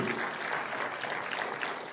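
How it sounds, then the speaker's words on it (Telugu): An audience at a public meeting on disability rights claps steadily throughout. The applause is dense, even and moderately distant, with no voices over it. "గట్టిగా చప్పట్లు కొట్టి అందరూ ఆశీర్వదించండి"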